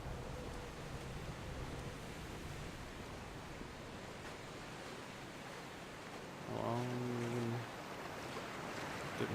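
Steady, soft wash of sea water against the shore in the game Dear Esther, a continuous faint surf hiss carrying on throughout, with a brief low tonal hum rising midway.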